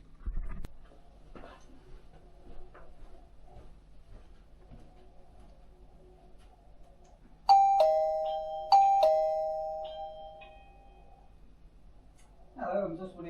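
A wireless video doorbell sounds a loud two-part chime, struck twice in quick succession and ringing out over several seconds, after a stretch of quiet room noise with faint movement.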